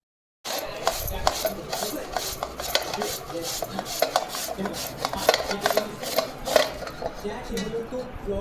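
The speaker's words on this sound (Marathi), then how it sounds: "मी किसण्याच्या साहाय्याने हे आंबे छान किसून घेतले" Raw mangoes grated on a hand grater to make a sweet-sour summer gulamba preserve, a rapid, repeated rasping scrape up close, with a voice talking faintly underneath.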